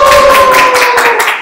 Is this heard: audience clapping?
yes